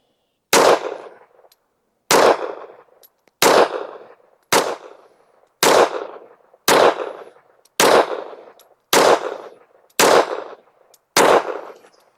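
Ten loud, sharp pistol shots from a Smith & Wesson M&P firing Tula ammunition, spaced about a second apart, each with a short ringing decay.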